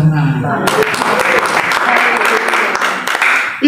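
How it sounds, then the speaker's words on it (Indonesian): Congregation applause at a church fasting-prayer session at Gunung Salak, Bogor, a dense wash of clapping from many hands rising sharply after a few voices and sustained at steady loudness before a voice cuts back in at the end. "Jangan hanya amin, tepuk tangan."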